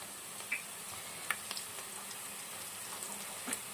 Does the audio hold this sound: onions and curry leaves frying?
yes